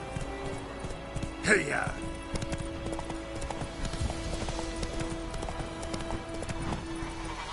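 Horse Roach gallops in a PS4 video game, with steady clip-clop hoofbeats running throughout under a rider's shout and brief speech.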